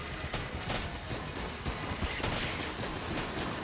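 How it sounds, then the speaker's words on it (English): Rapid, continuous gunfire from the video game Enter the Gungeon, a dense loud volley of shots and clattering impacts filling the whole stretch with only slight dips. "start shooting"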